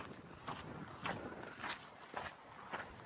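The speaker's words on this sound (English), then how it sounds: "this past like mile or whatever, it's just been crazy wind again" Strong gusts on a hiking trail sweep past in broad, roaring surges of wind noise about every half second to second, loud and close to the microphone, with no talking.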